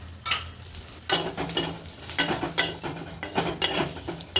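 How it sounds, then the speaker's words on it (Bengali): Neem leaves crackle and sizzle in hot mustard oil while a spoon stirs and scrapes the pan in irregular bursts, close up. "সর্ষের তেল দিয়ে আরেকটু কড়মড়ে করে একটু ভেজে নেব"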